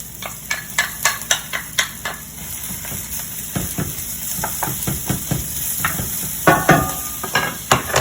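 Vegetables, mushrooms and turkey bacon sizzle in a pan with a loud steady hiss, punctuated by rhythmic sharp taps and scrapes of a utensil stirring, close up and without talk.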